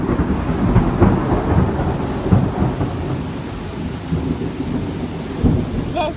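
A thunderstorm during an eclipse, with steady rain pouring and repeated low rumbles of thunder rolling underneath, a dense continuous wash of noise with no voices.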